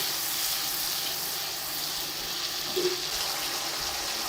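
A steady, even hiss of masala with salt and biryani spice frying in a pan for chicken biryani, continuous and close, with one faint scrape near the end.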